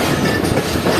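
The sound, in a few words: Hazara Express train pulling into platform 1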